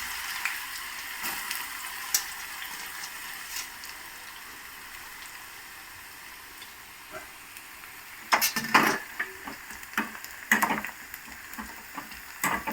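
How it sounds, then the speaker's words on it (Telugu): Round slices of dried bitter gourd fry in groundnut oil over a normal flame, a soft steady sizzle close by, broken by a few sharper crackling bursts and utensil clinks, with no talk. "ఆరబెట్టిన తర్వాత ఇది నేను వేరుశనగ నూనెలో వేపుతున్నాను."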